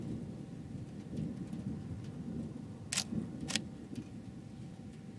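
A thunderstorm with steady rain hisses throughout while a low rumble of thunder rolls underneath, punctuated by two sharp crackling bursts near the end; no voices are heard.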